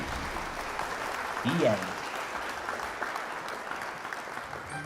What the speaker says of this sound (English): Let's give him a rollicking round of applause.